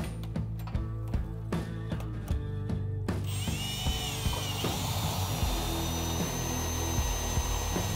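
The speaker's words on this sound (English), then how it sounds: "reinsert the drill powering counterclockwise to lower the deck" Cordless drill running counterclockwise to lower a Country Clipper stand-up mower deck with the XCJack2 deck lift: loud, close, steady whirring punctuated by short bursts and clicks of the lift mechanism.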